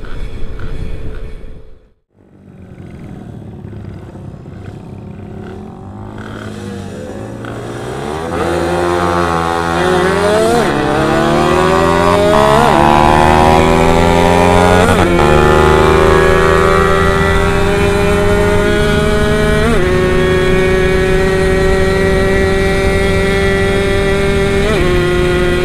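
A Suzuki Satria two-stroke motorcycle races on a road at Krian. The engine note drops briefly to a near-silent gap, then climbs steadily into a loud, sustained high-revving wail that rises in pitch through the gears, close and continuous.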